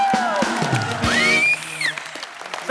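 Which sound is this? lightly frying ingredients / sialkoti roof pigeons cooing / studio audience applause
studio audience applause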